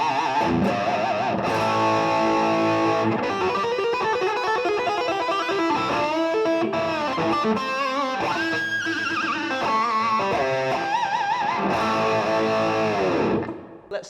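Distorted electric guitar with a Floyd Rose bridge, played on the bridge pickup at full volume through a Marshall DSL amp, riffing loud and continuous with sustained chords and lead bends, no talking.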